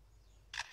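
A forest bird mimics a camera shutter with one sharp, bright mechanical click-whir followed quickly by a second fainter one. The sound is crisp and close against quiet background noise.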